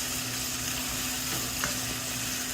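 A tablespoon of brown sugar sizzles and crackles in a hot pan as it caramelizes, a steady close frying hiss with faint stirring and no voices.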